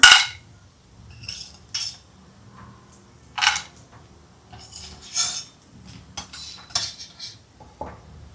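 Two spoonfuls of peanuts drop into a pan for a fasting aloo tikki chaat, giving several sharp clinks and scrapes of a metal spoon against the pan, spaced irregularly, near and alone with no talk.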